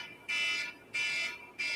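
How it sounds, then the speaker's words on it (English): A phone alarm beeps in three evenly spaced, moderately quiet bursts, each lasting about half a second with short gaps between. "Hey Siri, shut off my alarm."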